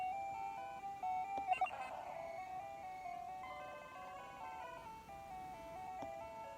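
Glitch Pokémon cry in a Pokémon game, a faint chiptune tone sequence of stepped, wavering electronic pitches with a brief buzzy burst near the start, playing alone at low volume.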